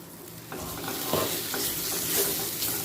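Cauliflower, potato and pointed gourd sizzle steadily in a pan, with several distinct stirring scrapes spaced across a few seconds under the constant close frying hiss; no one speaks.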